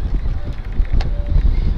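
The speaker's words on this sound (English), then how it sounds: "She is windy" Steady wind blowing across open water on a musky fishing boat, a rough, rumbling gusting roar buffeting the microphone, loud and continuous with no voices.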